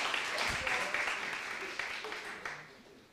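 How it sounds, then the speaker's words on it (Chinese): A church congregation at a Christmas service claps together in a dense burst of applause that tapers off over a few seconds, with some voices mixed in among the crowd. "好，再鼓掌一次。"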